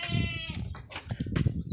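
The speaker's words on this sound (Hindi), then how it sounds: "अच्छी नस्ल का देसी मक्खी चीना बकरा है" Desi breed goat at a livestock market for Eid sacrifice, bleating close and loud in a short wavering call followed by muffled handling noises and brief voices nearby.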